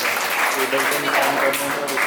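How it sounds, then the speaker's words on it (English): Applause from an audience at a school Independence Day celebration, a steady wash of clapping filling the short moment with a voice speaking faintly over it. "Give them a huge round of applause."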